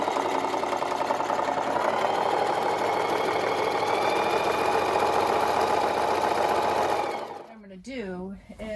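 A sewing machine running a zigzag stitch along the edge of sheet fabric, a fast steady mechanical whir with rapid needle ticking, close and continuous for about seven seconds before stopping, followed by someone speaking.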